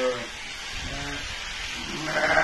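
Sheep bleat during shearing on a Turkish farm, a couple of close, wavering calls amid steady background noise, with some voices present.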